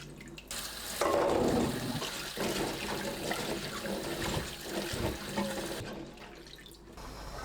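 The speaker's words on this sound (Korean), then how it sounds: "깨끗하게 씻어주세요. 이때 최대한 속껍질을 제거합니다." Garlic cloves are washed in water, with a steady rush of tap water and splashing that swells loudly for several seconds, then eases as the flow drops.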